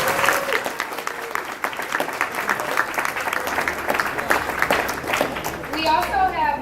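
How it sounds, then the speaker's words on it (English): A round of audience applause for a production team, dense and lively clapping with crowd noise throughout, before a voice begins speaking near the end. "Can we get one more round of applause for our production team?"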